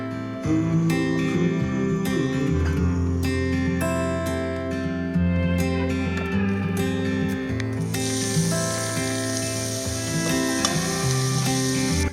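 Olive oil sizzles in a preheated pan while carrot and celery soup is being made, a loud, steady frying hiss running throughout beneath sustained tonal sounds.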